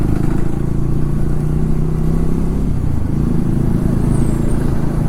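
A Triumph Tracker 400 motorcycle engine while riding, a loud, steady low rumble with constant wind buffeting, the engine note dipping briefly mid-ride before resuming, close to the rider.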